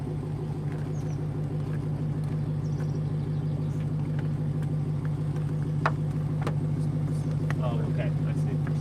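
A Dodge Challenger SRT Demon idles steadily with a deep, constant engine rumble throughout, while people talk over it inside the car.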